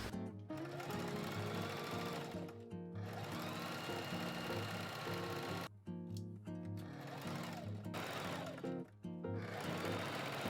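A sewing machine stitches a dress, its motor running in long continuous bursts broken by a few short pauses, loud and close throughout.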